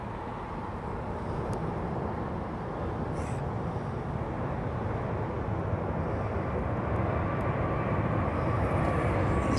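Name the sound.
Virgin jet airliner passing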